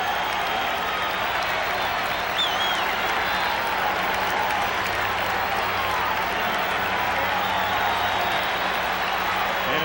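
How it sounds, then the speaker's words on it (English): Baseball stadium crowd during the 1985 World Series, Game 2, Cardinals at Royals, cheering and applauding in a continuous, distant roar of many voices with scattered whistles, steady across the whole stretch. "Crowd has been reduced to cheering for the defense, trying to get things started."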